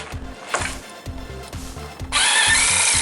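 Power tool driving out T30 Torx bolts on the front end of a VW MK5, close and loud: short repeated whirring bursts in a stuttering rhythm, then a steadier, brighter spinning whine.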